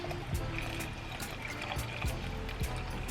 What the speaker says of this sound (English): we're just going to add in our filtered water.